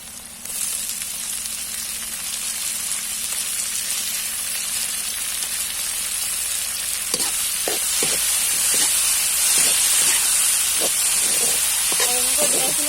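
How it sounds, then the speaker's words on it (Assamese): Tomatoes frying in a pan with reddened onions and two green chillies, a continuous close sizzle and steamy hiss with scraping stir strokes growing more frequent toward the end. "এনেকৈ বিলাহীখিনি সম্পূৰ্ণ সিজালৈকে ভাজি ল'ম আমি"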